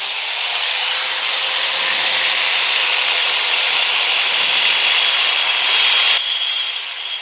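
Sandpaper rubs steadily over a turned yew wood plate, a continuous close, bright scratchy hiss with even pressure and no pauses, ending with a slight drop in intensity.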